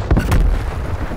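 A frag grenade going off in Call of Duty: Black Ops Cold War multiplayer, a loud, heavy blast with a deep booming thud and a second quick burst, then a fading rumble.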